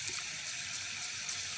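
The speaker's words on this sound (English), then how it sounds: "I'm going to add some water to it." Water runs steadily from a tap into a container, an even rushing hiss that stays constant and close throughout.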